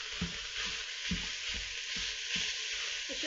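Browning ground beef fries in an Instant Pot with a constant close sizzle, punctuated by a rhythmic series of dull knocks as the meat is broken up with a utensil; no voices.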